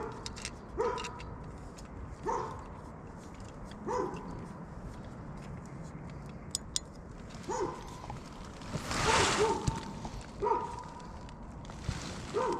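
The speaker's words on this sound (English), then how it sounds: "no idea how close that dog is" A dog barks repeatedly outside a tent at night during a solo wild camp, the steady single barks coming at regular intervals from some distance over a constant background hiss.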